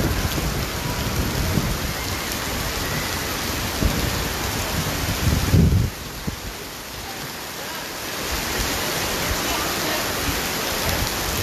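A heavy downpour drums steadily at Dubai Parks and Resorts, a close, loud wash of rain with a stronger surge midway before settling back to an even roar.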